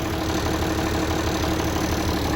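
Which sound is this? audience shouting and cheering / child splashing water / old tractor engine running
old tractor engine running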